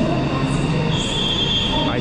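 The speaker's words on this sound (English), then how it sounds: "There goes the train." Rumbling noise of a Jakarta high-speed bullet train pulling away from a station, with a steady low roar and a rising metallic squeal near the end; faint voices in the background.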